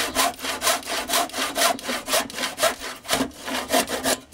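A hand saw rasps back and forth through wood in a steady, even rhythm, each stroke loud and close with no talking.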